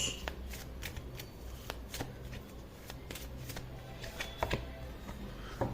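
Tarot cards being shuffled by hand during a reading, a steady run of soft riffling and flicking bursts with a few sharper snaps, close and quiet, no talking over it.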